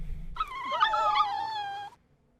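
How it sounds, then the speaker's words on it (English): Piranha poodles in the Monkey Island video game whimper and howl as they drift off to sleep, a single wavering, whining cry lasting over a second, close and clear, then falling silent. "These dogs are not dead. They are only sleeping."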